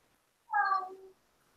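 A house cat gives a single clear meow, close and fairly quiet, lasting under a second against near silence.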